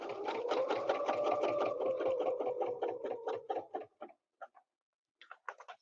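A sewing machine double stitches a quilt in a rapid even run of needle strokes that slows and stops, followed by a few short bursts, close and loud with no talking.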